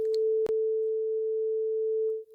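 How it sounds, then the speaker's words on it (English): A steady pure sine-wave tone sent through a reverb holds for about two seconds with a faint reverberant tail, broken by a single brief click partway through. "let's send the sine wave to a simple reverb"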